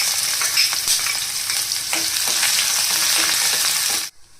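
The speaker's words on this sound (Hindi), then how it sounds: "तेल में हम डालेंगे जीरा और हींग। और इसी के साथ में हम डालेंगे कटा हुआ प्याज और हरी मिर्ची।" Cumin, asafoetida, chopped onion and green chili fry in hot oil, giving a loud, continuous crackling sizzle with scattered stirring scrapes before it cuts off abruptly near the end.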